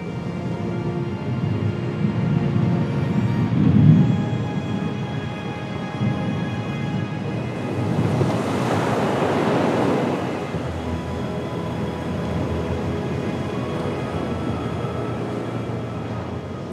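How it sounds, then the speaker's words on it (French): Storm wind and heavy waves at sea off the Finistère coast of Brittany, a loud continuous roar with a surging crash swelling midway, no voices. "lorsque le vent démolit la mer"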